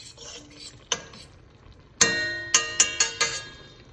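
A utensil scrapes and taps in a pan while 1.5 pounds of ground beef browns, with a soft sizzle underneath. Several sharp metallic clicks come close together near the end, then the sound decays.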